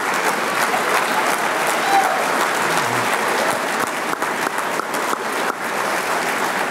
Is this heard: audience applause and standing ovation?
yes